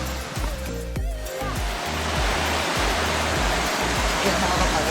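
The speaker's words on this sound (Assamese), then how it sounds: "এইটোৱে হৈ গ'ল জলপ্ৰপাত" Langherang Waterfall in Karbi Anglong roars with a dense, continuous rush of falling water, loud and close, steady from start to finish.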